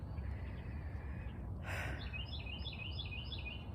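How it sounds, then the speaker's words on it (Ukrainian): Birds singing outdoors on a calm spring day: a run of faint, high, repeated chirps over quiet background hiss, preceded by a brief soft breathy burst. "А зараз птахи співають."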